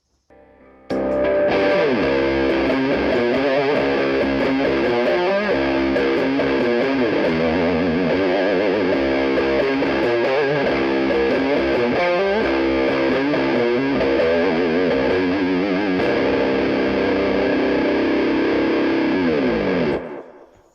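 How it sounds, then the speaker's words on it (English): A heavily distorted electric guitar, a 1982 Gibson Futura in drop C tuning, plays a continuous, loud riff-driven passage with sustained low chugging notes, starting abruptly and ringing out at the end. "Can I play you guys out on the drop C tuning?"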